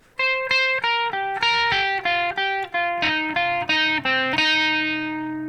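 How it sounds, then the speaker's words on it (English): Slowed-down electric guitar solo from a song, a steady run of about a dozen distinct picked notes stepping downward then rising, each ringing with effects, played alone and up close. "the very last part, the fastest part of the solo, sounds like this, slowed down"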